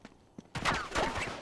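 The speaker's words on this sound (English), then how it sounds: "How do you like a sawed-off shotgun?" Sawed-off shotgun fire in Uncharted 3, a few loud close blasts in quick succession after faint scattered clicks and thuds, with ringing tails and a rising whoosh in between.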